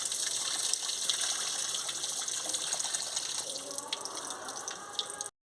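Cabbage being washed under a running kitchen tap, with a steady gush of water and faint splashing and dripping that continue without a break, close and fairly quiet.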